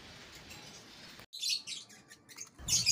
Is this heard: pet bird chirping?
yes